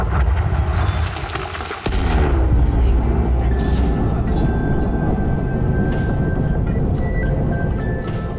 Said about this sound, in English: The explosion is super impressive.